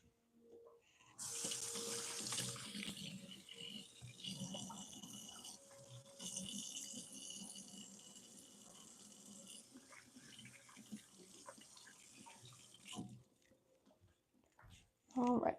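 A kitchen tap runs into a sink as hands are washed underneath, the water gushing steadily and splashing with shifting intensity for over ten seconds before stopping, followed by a brief clatter.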